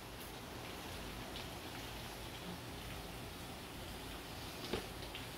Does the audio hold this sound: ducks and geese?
no